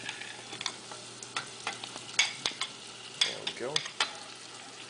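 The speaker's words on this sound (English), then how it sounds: "we're just going to give this a couple stirs as it cooks through" One large diced tomato cooks in a pan, a quiet sizzle under a few distinct scraping stirs and clinks of a utensil, with a brief spoken word.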